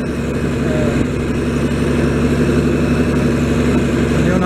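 An International 806 tractor engine runs steadily while tedding hay in an open field, a continuous low, even drone with a rough mechanical rumble, close and loud throughout with no pauses.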